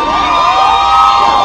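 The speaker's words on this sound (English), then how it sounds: "Where are the girls who screamed just now?" A crowd of girls screams loudly and continuously at a live outdoor concert at a survival weekend festival, a dense, sustained high-pitched roar.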